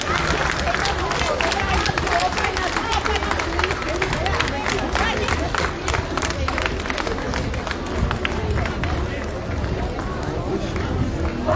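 Crowd at the Mother Armenia political rally in Gyumri applauding, dense continuous clapping and crowd noise filling the space, with a voice speaking over it.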